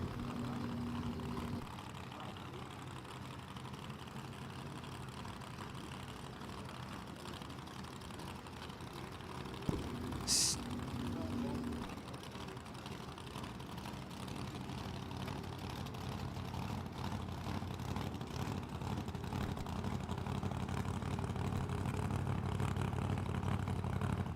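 Supercharged Chevy Top Sportsman drag car idling in the left lane at a dragstrip, a steady low rumbling engine drone holding throughout with a brief sharp click partway through.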